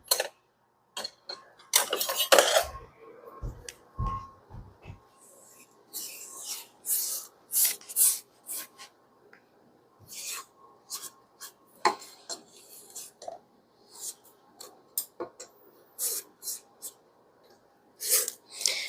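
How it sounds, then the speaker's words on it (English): A spatula scrapes the sides and bottom of a mixing bowl of cookie dough, giving scattered short rasping strokes and light taps with quiet gaps between them, close by and without talk. "I'm going to take just a minute and scrape the sides."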